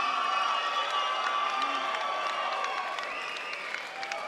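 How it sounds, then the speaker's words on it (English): A boxing crowd cheers and applauds for fighter Les Sherrington, a sustained roar of voices and clapping with whistles and shouts, loud at first and easing slightly toward the end. "give him a big cheer"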